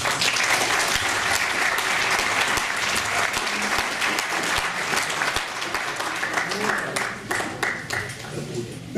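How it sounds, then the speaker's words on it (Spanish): Sustained, dense applause from a seated audience at an academic lecture on guarantees in international treaties, loud and steady throughout with a slight thinning near the end. "le demos un aplauso caluroso"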